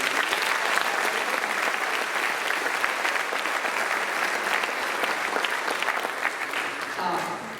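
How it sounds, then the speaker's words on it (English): A sports awards audience applauds its coaching staff, steady dense clapping sustained at an even level throughout and easing slightly near the end. "let's give them a round of applause"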